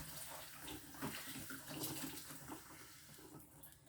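Leafy greens for wonton noodle soup rinsed under a running tap, a faint steady splash and trickle with slight shifts as the leaves are moved.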